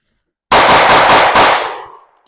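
A rapid string of close, loud pistol shots, about five sharp reports in quick succession, ending in a decaying echo during concealed-carry drill training.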